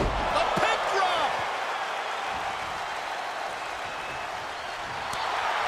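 Arena crowd in WWE 2K22 cheering steadily through a wrestling match, a broad roar of noise with a few sharp slams and impacts near the start and end.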